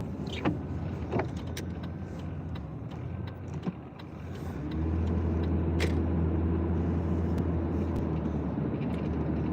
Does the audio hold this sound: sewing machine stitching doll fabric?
no